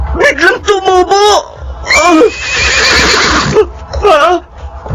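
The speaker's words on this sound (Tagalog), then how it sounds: "Parang ingay ng isang kabayo." A horse neighs in a loud, shaky whinny with rising and falling pitch, heard close among other vocal sounds, as though just outside a house.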